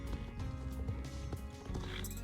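Hooves clip-clop at a steady rhythm on a horse in a video game, with a faint neigh and the game's background music running beneath. The hoofbeats are soft and fairly quiet, with no speech over them.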